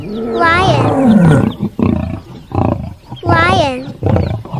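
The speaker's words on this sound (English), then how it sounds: "Lion," A lion roaring, heard as two long, loud roars separated by a stretch of lower growling and rumbling, close and alone.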